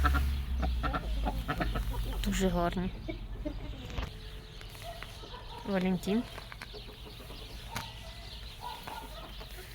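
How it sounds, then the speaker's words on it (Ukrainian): Backyard chickens and roosters cluck and call in short bursts around someone speaking, with a couple of louder squawking calls standing out close by. "Ось теж півник. Одні півні."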